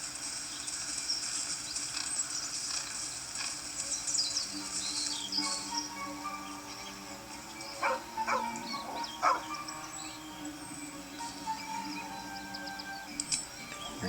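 A puppy in the Baldur's Gate 3 video game yips, whimpers and barks in short bursts over a quiet ambient game background with faint insect-like chirps.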